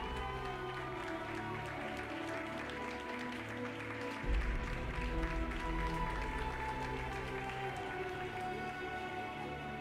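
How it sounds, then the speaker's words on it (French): An audience applauds the prize winners at a French pony club championship award ceremony, with continuous, even clapping over background music that carries on the whole time. "Allez, vous pouvez les applaudir bien fort."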